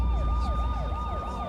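Ambulance siren wailing in a steady rising-and-falling sweep, close and loud, repeating several cycles over a low rumble with a constant tone alongside.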